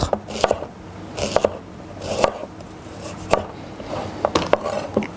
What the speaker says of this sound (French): Nous allons maintenant tailler l'échalote en rondelles environ de 5 mm.